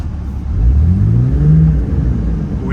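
A Jeep WJ's engine revs loudly while driving through snow in four-wheel drive, with a close, rising and falling engine tone that holds steady for the whole clip and no talking.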